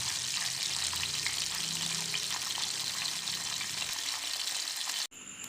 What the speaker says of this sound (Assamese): এনেদৰে সিটো পিছো ভাজি ল'লোঁ মই